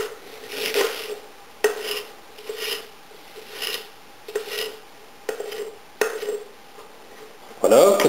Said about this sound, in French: Maintenant je vais hacher l'oignon.